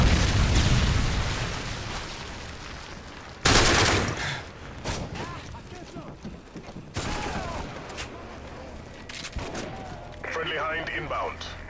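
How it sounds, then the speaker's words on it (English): A Predator missile strike lands in a Call of Duty match, a sudden loud blast cutting through continuous gunfire, machine-gun bursts and explosions, with game voices mixed in. "Friendly Predator missile inbound."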